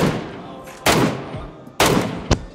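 Gunshots in PUBG Mobile come as three separate loud shots, each a sharp crack with a short tail, spaced close to a second apart over a steady background rumble, with no talking.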